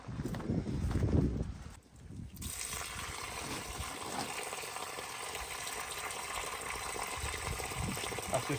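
Rusty water drains out of a fire engine's fuel tank, a steady gushing, splashing pour heard up close, preceded by a brief burst of louder sloshing at the start.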